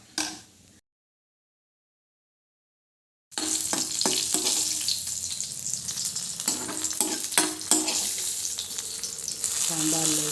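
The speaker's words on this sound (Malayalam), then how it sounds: "സാമ്പാർ തിളച്ച് കടുക് പൊട്ടുക." Mustard seeds and other tempering ingredients sputter and crackle in hot oil while sambar is prepared. The sizzling is loud and continuous with sharp pops, following a brief sound and a few seconds of silence at the start.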